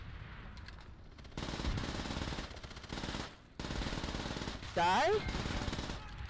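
Rapid automatic gunfire in Call of Duty: World at War, dense continuous bursts broken by short pauses, loud and close, with a brief spoken word partway through.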